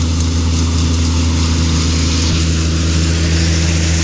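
A Swaraj 74 tractor runs at about 1100 rpm, driving a Shri Balaji thresher that is threshing kabuli chickpeas. It makes a loud, steady mechanical drone with a constant hum that never lets up.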